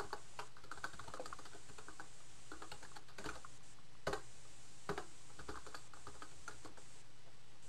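Fingers type on a computer keyboard in a steady run of light key taps and occasional firmer strikes, recorded close and fairly quiet with no voices.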